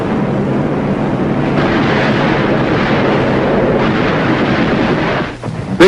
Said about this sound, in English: Big naval guns knock out shore-based installations.